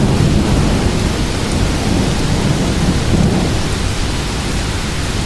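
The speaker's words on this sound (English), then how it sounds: "You don't want to mess with that lightning." A severe thunderstorm near St. Louis with 60 mph straight-line winds: heavy rain roars continuously, with deep thunder rumbling underneath, loud and close, without speech.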